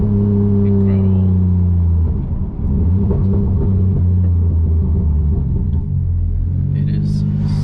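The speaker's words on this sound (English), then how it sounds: "It is so rowdy just driving around slow." A Toyota GR86 fitted with a 2JZ engine rumbles at low speed, a deep, loud, steady drone with a lumpy low-rev throb that dips briefly, close and prominent, with a voice talking over it.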